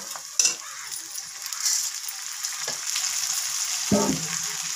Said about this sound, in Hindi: अब हम इसमें डाल देंगे ये चावल।